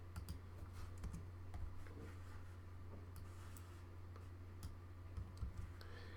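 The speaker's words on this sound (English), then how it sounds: "So I'm pressing Control X." Computer keyboard keys pressed for a Control X cut shortcut while editing code, faint scattered clicks over a steady low hum.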